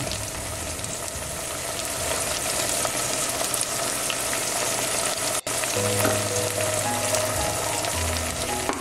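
Peppers and spices sizzle steadily in a hot pan for an attiéké dish, a loud, continuous frying hiss with a few stirring scrapes, unbroken for the whole stretch and with no voices.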